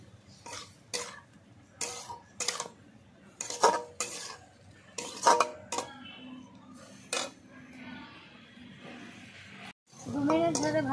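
Eggplant and potato, the white eggplant peeled, stirred in a pan, with repeated scraping clinks of a utensil against metal in short bursts and a faint sizzle underneath, plus a cough near the end.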